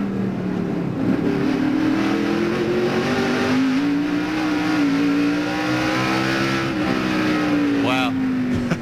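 Someone's NASCAR race car engine at the 1996 Hanes 500, heard from inside the car as a loud, steady high-pitched drone that rises and falls slightly with speed, with a voice talking over it.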